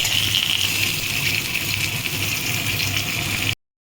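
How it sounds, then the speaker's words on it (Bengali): Pieces of katla fish frying in hot oil, a steady, loud sizzle that goes on without a break and cuts off abruptly near the end. "আমি হালকা করে এটাকে ভেজে নিচ্ছি তেলে দিচ্ছি"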